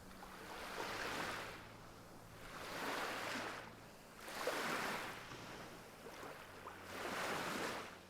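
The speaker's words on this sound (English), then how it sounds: "You can hear a little bit of ripple in the morning, just rippling through." Gentle morning water ripples lap the shore of a quiet beach at Bathurst Bay, Cape York, in soft, regular swells about every two seconds, calm and close with no voices.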